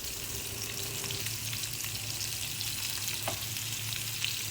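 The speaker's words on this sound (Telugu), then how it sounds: "చాలా తక్కువ ఆయిల్తో చేస్తున్నాను చూడండి" Fish fries in a pan with very little oil. A steady, close sizzle runs throughout, broken by a few soft stirring or scraping touches, and no one speaks.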